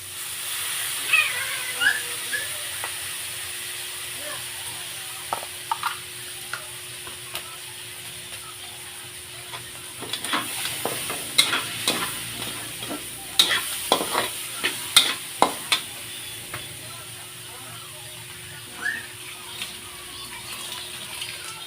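Annatto oil sizzles faintly in a pan for pancit bato, with quiet, steady frying broken by a cluster of sharp clicks and scrapes from stirring midway through.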